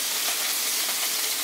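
Corned beef brisket sizzling in a hot frying pan, a dense, bright crackling hiss that stays steady and close for the whole short stretch with no voices.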